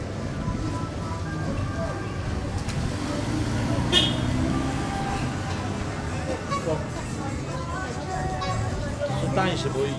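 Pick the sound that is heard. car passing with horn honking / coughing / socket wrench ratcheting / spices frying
car passing with horn honking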